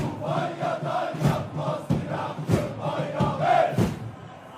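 Tractor football fans at Sahand stadium in Tabriz roar and applaud in a large crowd, with rhythmic bursts of clapping and chanting swelling and fading in waves, no one speaking over them.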